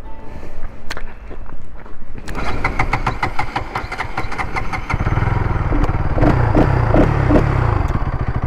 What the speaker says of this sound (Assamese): এতিয়া আপোনালোকক ফাৰ্ষ্ট দেখাই ল'ম শুনাই ল'ম চাউণ্ডটো বাইকখনৰ NS 200ৰ চাউণ্ডটো